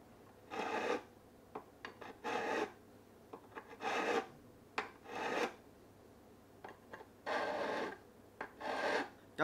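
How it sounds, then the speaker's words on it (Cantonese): A metal file rasps across the ends of guitar frets, rounding them off in a repeated series of short, close strokes separated by brief pauses. "咁我自己咧就中意喺高把位嗰時先用呢把銼"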